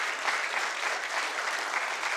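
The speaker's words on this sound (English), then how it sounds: "give them a round of applause" A crowd applauds steadily, a dense wash of clapping that holds at an even level throughout.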